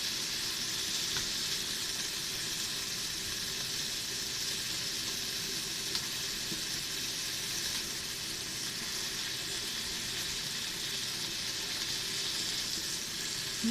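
Meat and vegetables for nikujaga sizzle and hiss steadily as they are stir-fried in a pan, a loud, continuous frying crackle with occasional faint scrapes, no voices.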